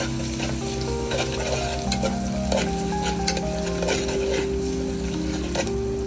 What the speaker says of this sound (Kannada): ಕ್ಯಾರೆಟ್ನ ಗೀ ಜೊತೆ ಸೇರಿಸ್ಕೊಳ್ಳೋಣ, ಅದು ಫ್ರೈ ಆಗಲಿ.